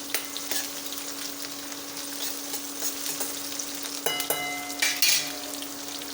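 Onion and cumin sizzle steadily in hot oil in a pan, a continuous close frying hiss with occasional stirring scrapes and clinks toward the end.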